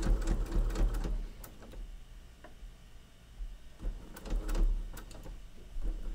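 A sewing machine chain-pieces fabric for a sewing machine mat in steady, close running stretches, briefly easing off midway before picking back up.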